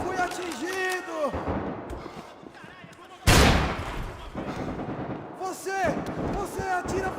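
Gunfire in the Max Payne 3 video game, with a sudden loud burst of shots cutting in midway amid shouting voices and chaotic action noise.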